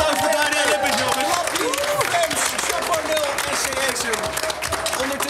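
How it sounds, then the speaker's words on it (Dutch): Studio audience applause and cheering for streamers and Daniel Lippens on a talk show special, loud and dense throughout, with music tones and a voice running underneath. "En een applaus voor Daniel Lippens, jongens."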